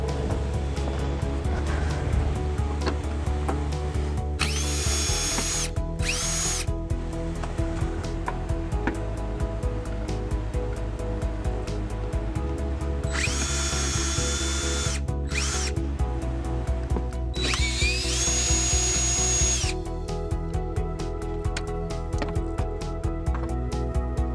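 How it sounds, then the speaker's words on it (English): An electric drill with a 10mm socket removes nuts on a 2017 Hyundai Elantra, whirring in repeated bursts, spinning up and stopping several times, loud and close, with brief high-pitched whines between longer runs. "we're going to start with these nuts by using a 10mm socket and an electric drill"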